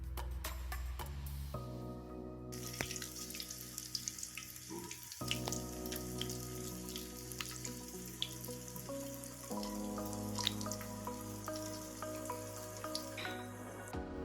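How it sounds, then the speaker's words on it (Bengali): Crushed garlic and two bay leaves sizzling in hot oil in a wok while an olive pickle is being made, a steady wet crackle and spatter running close and continuous throughout, with no voices. "থেতো করে নেওয়া রসুন আমি 2-3 মিনিটের মতো ভেজে নিচ্ছি।"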